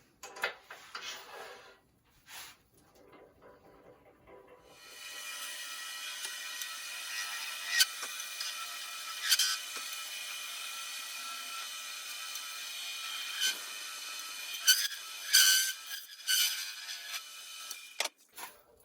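A wood lathe shapes the crown of a spinning top for competition play, the piece held on a live center. The gouge gives a steady high scraping whir with irregular sharp scratches and ticks, after a few quiet handling knocks.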